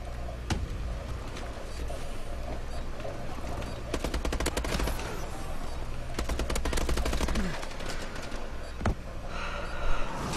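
Bursts of rapid automatic gunfire from a gun in Call of Duty, loud and sharp, with rattling volleys and a few isolated shots scattered across the stretch.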